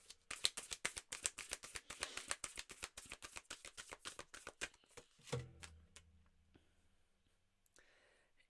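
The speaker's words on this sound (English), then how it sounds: "And yes, I can shuffle big cards." Rapid rhythmic riffling of large cards being shuffled, a fast run of crisp flicks that slows, then a few soft taps and near silence.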